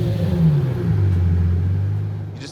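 A Lamborghini Murcielago's exhaust drones steadily while the car is driven with the roof open, a loud, deep engine note that rises slightly and then eases off.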